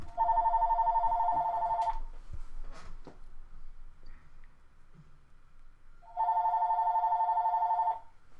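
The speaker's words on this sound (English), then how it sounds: "Oh crap, phone's going off." Home landline telephone ringing close by, two long electronic rings separated by a few seconds of quiet with faint clicks.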